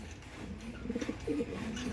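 A pigeon gives a few soft, low coos, close and fairly quiet, with no talking.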